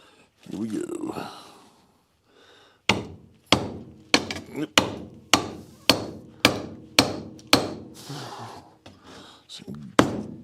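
A Stark ball peen hammer from a five-piece set drives into wood while building DIY cantilevered shelf brackets, about a dozen sharp close thwacks in a steady rhythm after brief talking.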